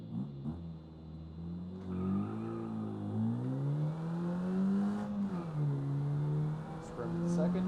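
A Gol GT car in the racing game BeamNG Drive revs its engine from a standing start, the rising and falling engine note climbing through gears, steady and prominent, with a voice speaking over it.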